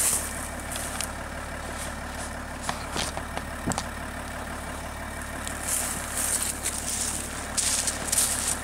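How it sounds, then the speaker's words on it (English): A truck idling on a wooded firewood hill, a steady low engine rumble running throughout with a few sharp knocks and rustles on top, no talking. "Now you can get back in the truck and we'll drag it the rest of the way down the hill with that."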